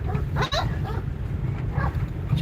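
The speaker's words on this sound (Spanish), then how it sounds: "un montón de perros, mastinos" Mastiff dogs bark and yip near cattle among olive trees outdoors, a few sharp calls around the middle and later, over steady low rumbling background noise.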